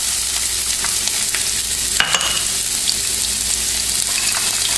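Onion frying in hot oil in a pan for shrimp fried rice crackles in a loud, continuous sizzle, with one brief clatter from stirring midway.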